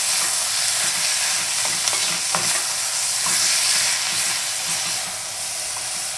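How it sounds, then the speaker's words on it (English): Beef browns in a pot for spicy soft tofu stew, giving a loud, continuous hissing sizzle with occasional soft scrapes from stirring. "First it starts a little bit brown, and then add beef."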